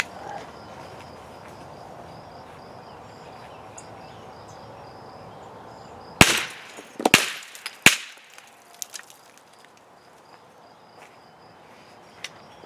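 CCI Standard Velocity .22LR rounds fired outdoors into plaster molds, several sharp cracking shots in a quick irregular burst with a few fainter echoing pops after, over a steady drone of crickets.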